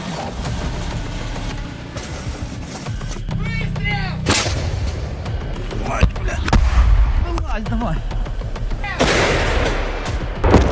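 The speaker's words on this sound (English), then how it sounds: "Russian artillery strikes shake the Ukrainian units" Heavy artillery fire and gunfire in wooded terrain during an assault on Russian positions, with repeated loud booms and bursts of shots over a continuous rumble while a voice talks throughout.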